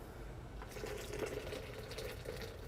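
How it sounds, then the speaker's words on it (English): Boiling water is poured in a steady stream, a soft continuous splashing trickle, close and fairly quiet. "So we have boiling water."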